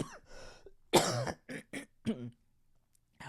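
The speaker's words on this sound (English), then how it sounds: "This damn cough is killing me." A series of harsh, close coughs, one long fit followed by several shorter bursts, with brief pauses between them.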